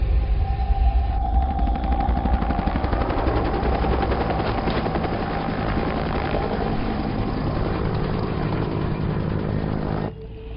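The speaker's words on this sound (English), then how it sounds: "Just had 2 Mi-28s fly by" Two Mi-28 attack helicopters flying past, a loud continuous rotor and turbine roar with rapid chopping throb that holds steady for about ten seconds before cutting off.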